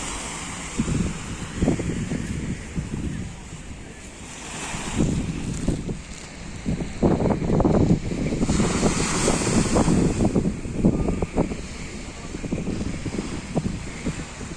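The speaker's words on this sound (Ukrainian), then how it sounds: "Море." Sea waves washing onto a warm beach, with surf swelling and receding under steady wind buffeting the microphone, rough and fairly close, with no talking.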